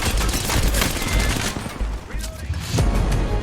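Rapid automatic gunfire from a firefight in Apex Legends on PS4, loud close bursts of shots with brief gaps and a short pause midway before firing resumes.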